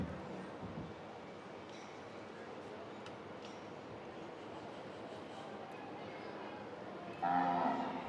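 Cattle lowing inside a junior bred-and-owned heifer show arena, a steady noisy crowd and barn background with a louder bovine moo rising near the end, some indistinct voices around.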